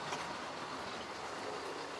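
A model locomotive runs along its track in a steady, close, low-level rumble with a faint rolling rail noise and no talk.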